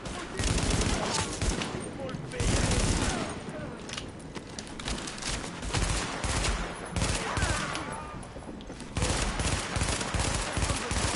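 Gunfight in the video game The Division: bursts of automatic gunfire and scattered shots crackle continuously and loudly throughout, with a brief lull midway, and a voice speaks now and then over the shooting.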